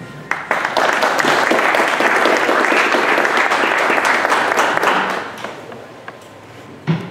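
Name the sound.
audience applause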